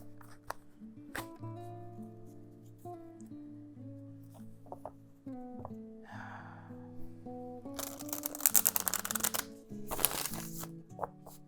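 Tarot cards are shuffled and riffled in quick crackling bursts near the end, over soft sustained music playing throughout.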